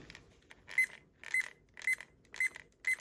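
Kitchen-style timer beeping in a steady run of five evenly spaced electronic beep pairs, clear and fairly close, with no talking over it.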